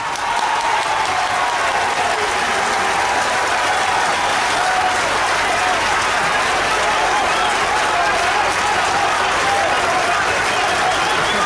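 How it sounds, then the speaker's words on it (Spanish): Loud, dense applause from a large crowd, steady and sustained throughout with no pauses. "le tributemos un fortísimo aplauso"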